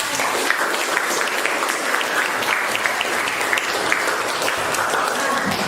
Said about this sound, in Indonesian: kita berikan tepuk